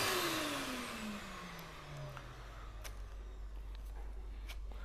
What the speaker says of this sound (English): Always run the vacuum with the pressure pump.